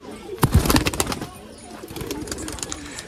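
Pigeons kept by a high-flying pigeon fancier coo and flutter close by, a cluster of soft throaty calls and wing sounds early on, fading into quieter cooing and rustle afterward.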